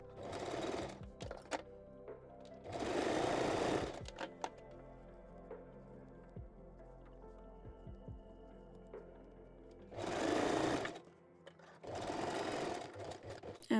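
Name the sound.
sewing machine stitching elastic on bikini bottom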